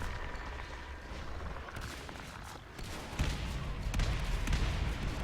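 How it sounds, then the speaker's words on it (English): Muffled grenade blasts boom repeatedly during a Natural Selection 2 match, heavy thuds and rumbles growing louder and denser toward the end amid game noise. "you got grenade explosions going off randomly everywhere"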